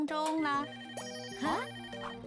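A cartoon telephone rings in a bright electronic warble, two short bursts of trilling tones, heard in a kitchen scene where a child and mother bake cookies.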